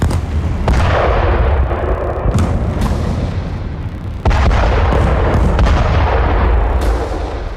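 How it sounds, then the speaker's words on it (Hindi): Artillery shelling and air strikes pound Khan Younis in southern Gaza: a dense, continuous rumble of explosions broken by several sharp, heavy blasts, loud and close. "साउथ गाजा में जंग के 60वें दिन बरसते बारूद का नया रिकॉर्ड बन गया।"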